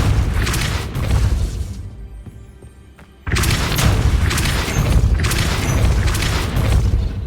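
Depulso force spell blasting in Hogwarts Legacy on Xbox Series X, a loud booming burst followed by a short quiet gap, then another heavy, sustained blast rumbling on with no speech.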